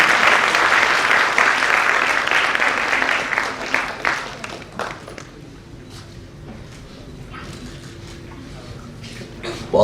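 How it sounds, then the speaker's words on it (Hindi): An audience at a stage event applauds loudly, a dense burst of clapping that thins out and fades to scattered claps and quiet room noise after about five seconds. "जोरदार तालियां हो जाए।"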